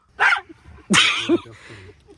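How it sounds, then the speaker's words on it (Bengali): Dogs bark at night outside a tent on Tarua Island's beach, two sharp, close barks a short gap apart, the second trailing into a brief whine, with quiet background between. "হঠাৎ করে থেকে কতগুলো কুকুর এসে আমাদেরকে জ্বালাতন শুরু করছে"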